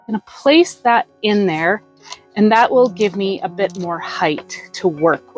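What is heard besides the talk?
No everyday noises stand out.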